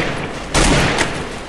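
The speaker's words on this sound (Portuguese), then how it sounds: "Aqui agora você pode trocar tiro à vontade aí, galera" Gunfire from the video game Free Fire: a sudden loud burst of shots cracks in partway through, then trails into a dense ringing rattle before easing off.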